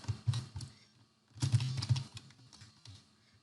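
Fingers type on a computer keyboard in two quick flurries of close, soft keystrokes separated by a short pause, with no talking.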